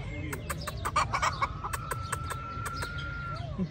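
Chickens cluck nearby in a rapid, clipped series of calls, with a longer drawn-out note, over a steady low background hum and people talking.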